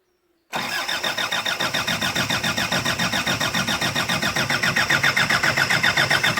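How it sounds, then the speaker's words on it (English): A Land Rover 90 fitted with a Daihatsu 2.8 turbo diesel cold-starts after a short silence, then settles into a loud, rhythmic diesel clatter with steady regular pulses. "We'll just better give it a cold start and see how it gets on."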